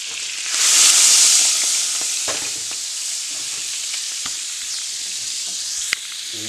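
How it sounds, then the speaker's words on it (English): Butter and fresh herbs sizzle loudly as they hit a hot pan for Italian spaghetti, a bright initial hiss settling into steady frying crackle with a few pops. "Fresh herbs and butter. Hit the pan."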